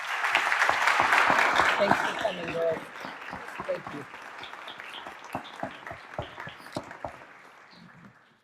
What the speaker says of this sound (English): Please give these employees a round of applause.